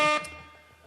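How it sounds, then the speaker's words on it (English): A single short, loud blast of an air horn sound effect cuts off abruptly and leaves a fading tail. "I'm gonna do some annoying air horns."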